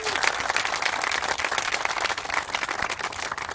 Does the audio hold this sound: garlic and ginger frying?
no